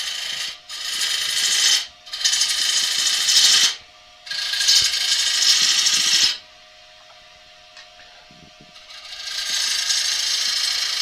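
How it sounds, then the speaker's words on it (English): A bowl gouge with a 45 degree bevel makes a pull cut on the outside of a wooden bowl spinning on a lathe, producing loud, close, raspy scraping bursts separated by short pauses, followed by the quieter hum of the lathe. "let's have a look at both of these gouges in a pull cut in order to get a shape on the outside of this bowl"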